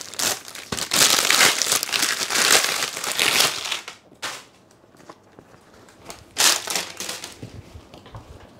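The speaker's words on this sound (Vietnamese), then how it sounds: "em bóc cái túi này ra cho các bác xem" A plastic bag being torn open and pulled off a pair of Converse Legacy CX sneakers, with loud close crinkling and crumpling in bursts, a quieter pause, then another sharp rustle.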